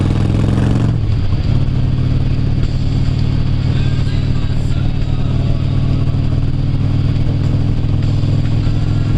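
Motorcycle engine running steadily with a newly fitted exhaust during a test ride, a loud continuous low drone with wind noise throughout, following a brief burst at the start.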